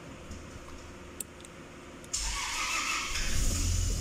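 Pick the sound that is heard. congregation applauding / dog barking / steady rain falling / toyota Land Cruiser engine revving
toyota Land Cruiser engine revving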